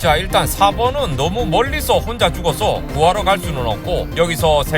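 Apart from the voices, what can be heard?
No distinct noise like a dog, phone or traffic.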